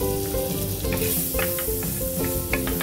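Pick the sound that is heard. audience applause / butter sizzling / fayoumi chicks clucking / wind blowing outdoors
butter sizzling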